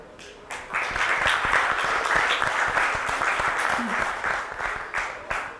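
An audience at a supply chain summit panel applauds a panelist, a steady wash of many hands clapping that swells quickly and holds loud for several seconds.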